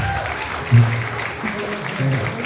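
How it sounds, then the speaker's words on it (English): Audience applause at a live talk show fills the background with a continuous patter of clapping, while a few low voice bursts rise briefly above it. "give us a round of applause"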